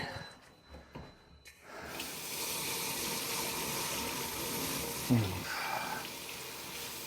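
Hot water gushes steadily from a hotel room tap, a broad continuous rush that starts after a brief quiet lead-in and runs alone to the end with a small knock partway through.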